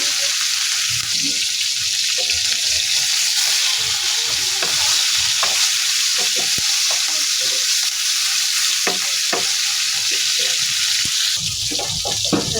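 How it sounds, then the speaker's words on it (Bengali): Chicken with spices fries in a pan: a loud, continuous sizzle close by, broken by frequent clattering knocks and scrapes from stirring, with no voices over it. "সবগুলো দেওয়া এগুলো এখন ভেজে নেব"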